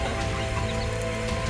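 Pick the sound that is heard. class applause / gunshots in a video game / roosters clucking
roosters clucking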